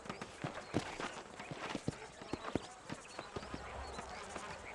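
Horse hooves clip-clop in Red Dead Redemption near Armadillo, an irregular run of soft thuds from several horses over a faint ambient background.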